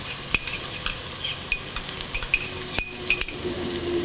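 Green chillies, curry leaves, garlic and ginger sauté with lightly browned onions in a pan, a faint sizzle underneath frequent quick clinks and scrapes of a spoon against metal.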